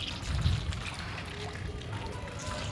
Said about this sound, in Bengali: আব্বু এখান দিয়ে এটা খুলে দিয়েছে, যার সাহায্যে এখান দিয়ে পানিটা সবই হয়ে যাচ্ছে